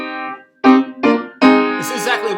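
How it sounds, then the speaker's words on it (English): Short guitar phrase from a song, three bright plucked chord stabs in quick succession, close and fairly loud, with no talk over them. "if you were out of context to hear this guitar part, which sounds like this"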